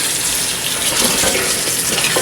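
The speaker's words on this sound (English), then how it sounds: "we're going to fill it up with water" Tap water gushes steadily into a soup pot of peeled carrots, a continuous close, fairly loud filling rush with no talking.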